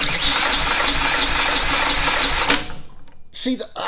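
A generator engine with its ignition switched off is spun by the starter and does not fire, giving a loud, steady whirring crank for about two and a half seconds that cuts off abruptly, followed by a brief voice.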